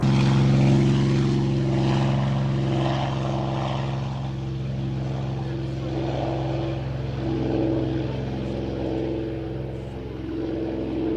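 Supermarine Spitfire taking off from an airfield, a loud sustained propeller engine drone with a strong low throbbing hum that holds steady throughout, close and without voices.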